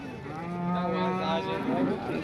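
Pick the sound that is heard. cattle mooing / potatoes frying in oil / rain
cattle mooing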